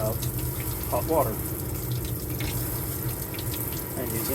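Hot water runs from a sink faucet aboard a converted shuttle bus, a steady close stream of flowing water with faint background noise throughout.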